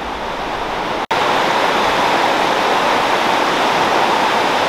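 A river rushes through the deep Zion Narrows canyon, a loud, steady broadband roar of flowing water close by, broken only by one momentary cut.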